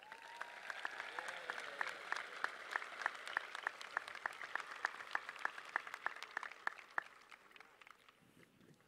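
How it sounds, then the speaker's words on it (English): An audience at a Parkersburg High School graduation ceremony claps for the choir, sustained applause with crisp individual claps, moderately distant and steady before thinning toward the end. "Let's give them another round of applause."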